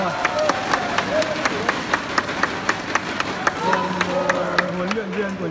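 Rhythmic clapping from a crowd in an arena during a Japan–Korea badminton final, steady and moderately close, under a commentator's continuous talk.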